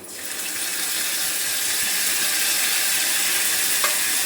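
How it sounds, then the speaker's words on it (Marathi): Kokum and fresh coriander hit hot oil in a tempering for chana masala and kadhi, setting off a loud, dense sizzle that swells within the first second and then holds steady, close by, with no talking. "आता हे कोकम आणि कोथिंबीर तेलामध्ये टाकून देते"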